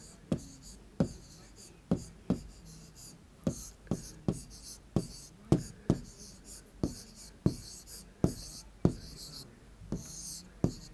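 Chalk or marker tapping and scratching on a board in a math class, a steady run of sharp strokes about every half second, close and distinct, with quiet speech in the background.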